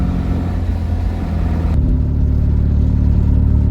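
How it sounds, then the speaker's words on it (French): A 1971 Fiat 500 with its small 500 cc engine runs steadily, giving a loud, close, continuous low rumble with no talk over it. "concernant le moteur, c'est pas le plus silencieux du monde, mais en tout cas ouais, c'est un petit moteur efficace"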